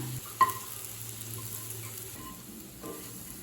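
Elephant foot yam roasts in a pan over low heat, a quiet, even sizzle with one sharp clink early on and faint stirring after.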